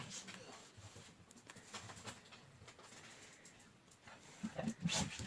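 An excited dog just back from outdoors whimpers and yelps indoors, with restless movement and a few sharp vocal bursts near the end over a low room background.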